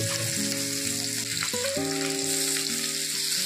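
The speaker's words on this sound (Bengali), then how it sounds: "এভাবে উল্টে পাল্টে ভালো করে বড়াগুলোকে ভেজে নিতে হবে।" Katla fish fritters fry steadily in hot oil, a dense continuous sizzle close up and loud, with no talking.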